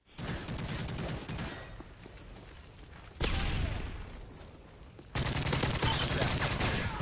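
Rapid gunfire from a Call of Duty: Modern Warfare 3 match rattles in dense bursts, a sharp blast midway followed by a louder sustained volley at close range.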